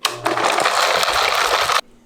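A loud burst of grinding and crunching from a blender crushing dry ramen noodles runs for under two seconds, then stops abruptly.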